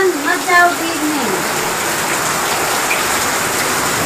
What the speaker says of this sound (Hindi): बारिश तो बहुत तेजी से हो रहा है